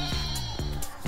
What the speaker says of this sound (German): die süßen Ziegen